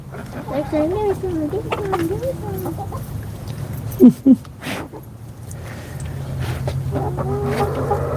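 Hens cluck and murmur nearby in a busy, continuous chatter, with a couple of sharp louder calls partway through and a person speaking over them.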